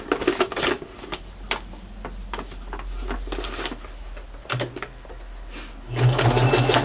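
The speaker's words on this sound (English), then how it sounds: "I will just stitch around the sides and the bottom and leave it as a pocket" Sewing machine zigzag stitching a fabric pocket onto a junk journal page, a close, steady mechanical whirr running in bursts with brief pauses between runs.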